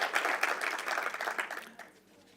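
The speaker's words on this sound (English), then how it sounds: "please give her another round of applause" Audience applause at the closing session of the Arts Summit of Southern Africa 2018, a dense wash of clapping hands that holds steady for over a second and then thins out and fades.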